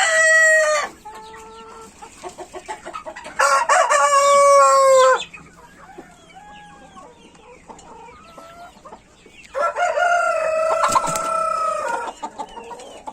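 Roosters crow loudly several times, with Leghorn hens clucking softly in between, close by in a garden.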